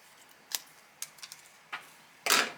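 Scissors snip through a piece of puff heat-transfer vinyl in several short, crisp cuts at close range, ending with one longer, louder slicing cut; no one talks.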